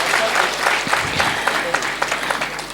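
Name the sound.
audience clapping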